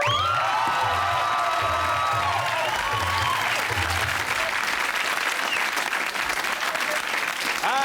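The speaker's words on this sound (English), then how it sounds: "Let's have a big round of applause for my assistant, Les" Loud, sustained applause from a large audience, dense clapping with a few cheers and whoops, continuing steadily throughout.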